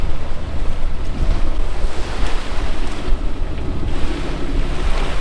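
Cold North Sea waves slosh and pound steadily against a sailboat's hull in midwinter, with loud wind noise buffeting the microphone throughout and no voices.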